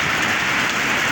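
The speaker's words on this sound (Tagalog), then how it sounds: "Sa lakas ng ulan na to, giniginaw din." Heavy rain pours down on a farm in San Fernando, La Union, a dense, steady hiss of drops drumming on surfaces, loud and unbroken, with no voices.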